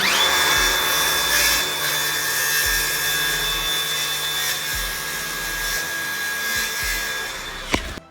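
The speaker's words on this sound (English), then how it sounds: "All I do is run my saw up, so I'm using this wall here as a guide." A power saw runs continuously, cutting through a wooden staircase handrail while guided along a wall, with a steady whine and grinding that holds for several seconds before the motor spins down and stops near the end.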